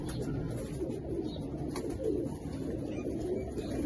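Desi pigeons coo in low, steady rumbling calls at a breeder's loft, continuous and moderately close, with no voices over them.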